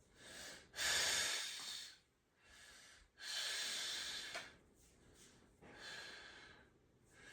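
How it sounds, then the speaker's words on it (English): Deep, slow breaths during a Chinese medicine kidney exercise, a series of long loud inhales and exhales in an uneven rhythm, close and alone with no talking. "I'm gonna press with my hands down, and this is gonna go up. So, and then I'm gonna breathe."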